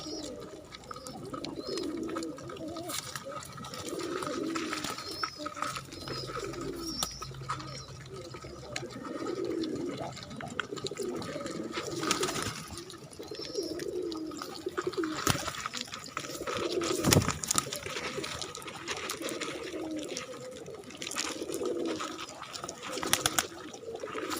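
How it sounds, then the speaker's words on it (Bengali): Feral pigeons gathered to feed coo repeatedly in overlapping soft bursts, with scattered clicks and clatter from the feeding spot and a faint voice now and then. "বাইরের থেকে কবুতর, যে বনালো কবুতরগুলা ম্যাক্সিমাম আছে, ওইগুলা দেখা যায় এখানে বেশি আসে খাবারের জন্য"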